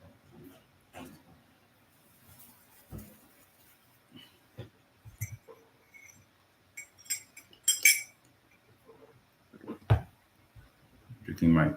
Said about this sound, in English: Drinking my tea.